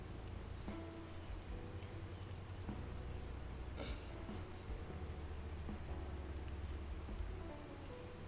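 Rain falls in a foggy video game landscape as an unbroken, soft wash of patter and hiss with no speech.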